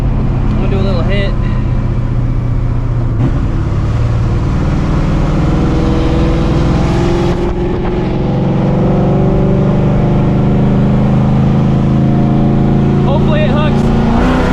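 A 600hp supercharged New Edge Mustang GT pulls hard, its loud engine roar climbing steadily in pitch from inside the car, with a voice speaking over it at times.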